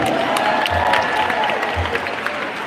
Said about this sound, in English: Can we give one more big round of applause for Senator Gomez?